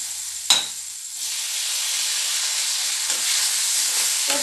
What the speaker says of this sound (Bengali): বিলাহীখিনি অলপ ভাজি কেঁচা কেঁচা অলপ যেতিয়ালৈকে নাযায় তেতিয়ালৈকে অলপ এনেদৰে ভাজি থাকিম